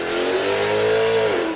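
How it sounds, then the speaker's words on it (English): A high-horsepower drag racing car launches down the track, a loud, sustained roaring engine with a rising whine that holds and then cuts off near the end. "from the sounds of that, some a little higher horsepower coming up."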